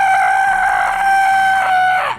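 A falcon screeches in the video game Trails to Azure: one loud, sustained, tonal cry lasting about two seconds that cuts off abruptly.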